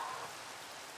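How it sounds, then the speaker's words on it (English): Steady rain falls in the video game Life of Mine, a dense, even hiss of drops that fills the short moment with no voices over it. "It's raining!"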